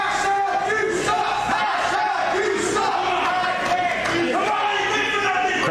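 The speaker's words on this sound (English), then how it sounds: "Crowd here chanting, #you suck." A wrestling crowd at an Invictus Pro Wrestling social media championship match chants in unison, a loud, dense and steady roar of many voices filling the arena throughout.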